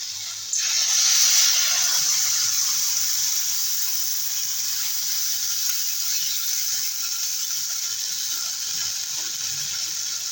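Broth poured into a pan of frying okra for an okra and fish roe curry, a sudden bright sizzle and rushing hiss that settles into a steady, even fizz.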